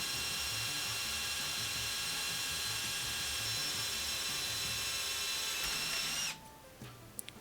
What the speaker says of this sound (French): quand on perce, c'est bien important de faire une poussée vers le bas, de bien tenir sa drille par le manche